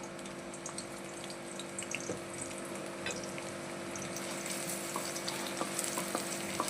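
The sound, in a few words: sliced onions frying in oil for mutton gravy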